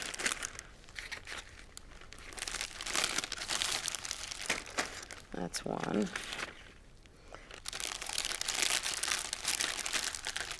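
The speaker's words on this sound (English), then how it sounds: "So to marinate it, I'm going to put it right in this plastic bag." A plastic bag crinkles and rustles close up as meat is put inside for marinating, in irregular bursts with quieter gaps, and a person speaks briefly partway through.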